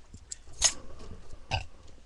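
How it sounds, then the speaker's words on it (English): A person on their 21st birthday lets out burps up close, a short gulping one followed by a second about a second later, with no talking. "I keep burping."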